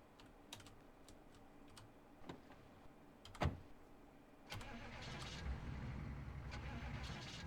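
In the video game Project Zomboid, a truck engine cranks and catches after a few clicks and clunks, then settles into a steady running rumble as it drives off, fairly faint with keyboard taps mixed in.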